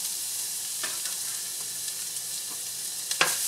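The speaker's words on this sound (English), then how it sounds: "we are going to saute this lightly until it starts to turn golden brown" Garlic sautés in warm oil with a steady, even sizzle, broken by a few soft stirring clicks and a sharper scrape near the end. No one speaks.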